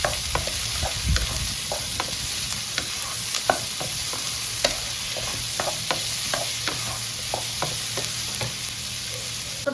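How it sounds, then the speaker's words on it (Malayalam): Chopped spring onion and celery stalks are stirred in a hot frying pan: a constant sizzle with regular sharp scraping clicks of the spoon against the pan. "നന്നായിട്ടൊന്ന് ഇളക്കുക"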